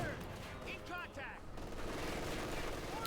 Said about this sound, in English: Grenades there for El Dorado.